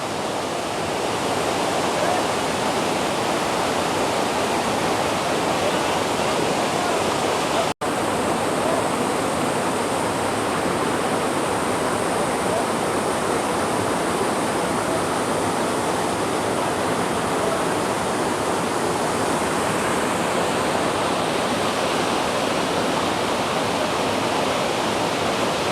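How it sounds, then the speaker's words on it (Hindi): Water flows at the Ban Ganga bathing ghat in Katra with a loud, continuous rushing hiss, steady throughout except for one momentary dropout. "और ये यहाँ से पानी का फ्लो देखिए"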